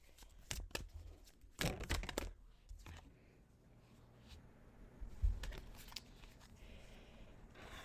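Tarot cards are shuffled quietly in short, irregular bursts of papery flicks and rustles, close but faint, with pauses between.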